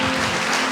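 A church congregation applauds during a Portuguese-language service in a brief, steady burst of dense clapping, with a faint constant hum beneath it.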